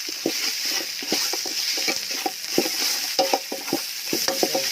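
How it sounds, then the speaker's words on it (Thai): Field rat meat being stir-fried with curry paste in a hot pan, with a steady sizzle under repeated scraping and clattering stirs close by, with no talking. "มันร้อนเอาเครื่องลงผัดครับ ตัวหอมแล้วก็เอาหนูลงผัดทีกับเครื่องนะครับ"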